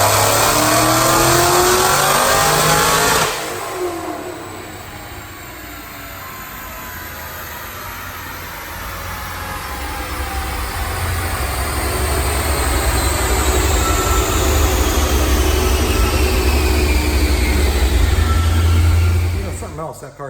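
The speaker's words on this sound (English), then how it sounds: "I'm gonna make a dyno pull." A supercharged 2009 Dodge Challenger with a built engine, Whipple supercharger, headers and mufflers, roars through a dyno pull. It is loud and close, drops briefly, then climbs steadily in pitch toward a high-rev peak before cutting off.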